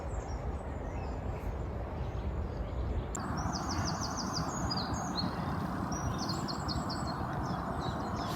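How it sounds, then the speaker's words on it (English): Birds chirp and trill in short repeated phrases at sunset beside a carp fishing lake, fairly faint over a steady low outdoor rumble, with no talk. "Birds singing away."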